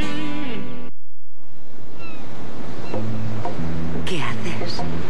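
Mediterranean sea waves surge and wash in a loud, close rush, broken by a brief silence, while music and voices play over the surf.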